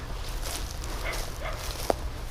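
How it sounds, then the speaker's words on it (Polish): A dog barks and yips faintly in the distance near an abandoned slaughterhouse, giving a few scattered short calls over steady low background noise, with one brief sharp sound near the end. "gdzieś w oddali Piesek się uaktywnił"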